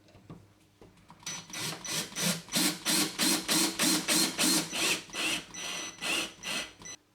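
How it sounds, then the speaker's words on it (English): A screw is driven into a wooden door to fit a bathroom indicator bolt, heard as a close, rapid series of rhythmic grinding pulses after a few light clicks. "And then we can drive that screw in."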